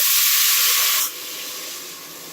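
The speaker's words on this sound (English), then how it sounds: "this is where you add the water. You're gonna get lots of steam, but it should boil right away." Water hits a hot pan with a loud, bright hiss of steam that drops suddenly to a quieter, steady sizzle.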